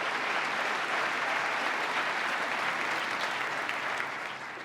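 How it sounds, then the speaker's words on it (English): Round of applause from the audience at a State of the State address, a dense, even wash of clapping from a large crowd that holds steady and then begins to fade. "Let's give them a round of applause."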